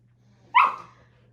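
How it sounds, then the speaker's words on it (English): A playful puppy lets out a single short, sharp bark close by, with faint low hum in the background. "this may look like a puppy who's just playing."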